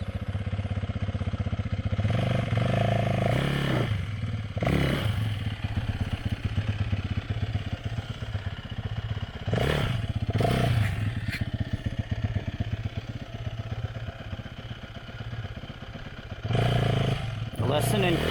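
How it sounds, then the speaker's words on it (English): Dirt bike engine on a narrow trail, idling and revving in bursts as the rider maneuvers to turn around, loud and close with clattering, voices talking over it. "Lesson in creative turning around on narrow trails by Ron."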